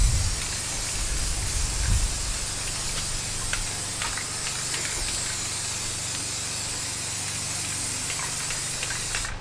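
Spray paint misted in a light coat onto a rifle for camouflage, a steady continuous hiss lasting the whole stretch, close and unbroken with no voices.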